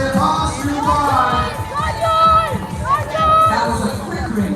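Spectators cheering on cyclists during a primary school international race at an avenue cycling event, heard as a close, lively crowd with shouts and chatter that rise in waves as riders pass.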